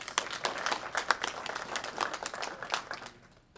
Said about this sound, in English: Another round of applause for Rebecca, please.